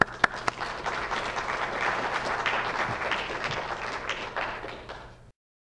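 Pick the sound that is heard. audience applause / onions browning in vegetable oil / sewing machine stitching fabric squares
audience applause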